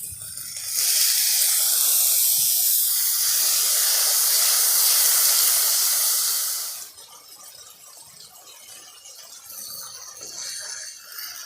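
Spice paste with turmeric hisses and sizzles loudly in a hot pan as a little water is added, a steady steamy roar for several seconds before dropping to a softer crackle.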